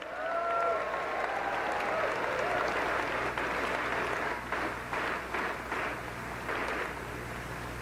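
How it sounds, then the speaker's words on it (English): Sustained crowd applause at the opening ceremony of the Ontario Parasport Games, a steady dense wash of clapping and cheering from a large audience that holds loud throughout and eases slightly toward the end. "Give them a round of applause."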